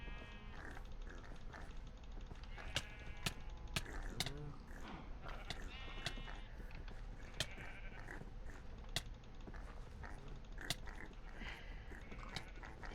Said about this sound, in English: Oh, I accidentally hit my sheep.